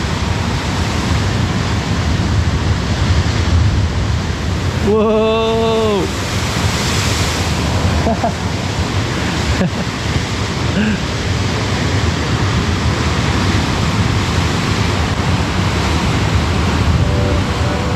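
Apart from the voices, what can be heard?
huge waves crashing against rocks on Algarve coast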